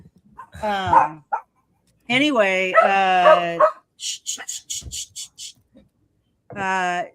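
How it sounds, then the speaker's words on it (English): A dog barks in a quick burst of several sharp yips, close by, with people talking before and after. "pardon the dog barks."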